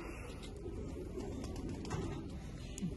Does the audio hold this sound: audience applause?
no